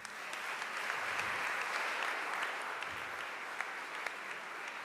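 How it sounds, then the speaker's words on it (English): Congregation applauding inside a church during an icon blessing, a dense steady wash of many hands clapping, moderately distant and even throughout with no talk over it. "We give them an applause."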